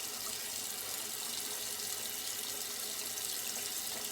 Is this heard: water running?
yes